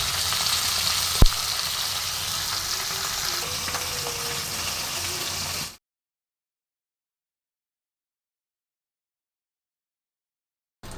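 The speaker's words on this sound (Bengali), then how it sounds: "বাকি মাছগুলোও ভেজে নেব।" Dhela khoyra fish fry in oil in a kadai with a loud, dense, continuous sizzle and one sharp clack, then the sound cuts out into silence partway through.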